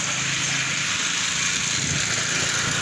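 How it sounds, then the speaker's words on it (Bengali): A small engine drones steadily nearby on a road, a light buzzing motor noise that holds constant throughout, fitting a scooter passing a cyclist, with no talk over it. "বাইক না স্কুটার যাচ্ছিল"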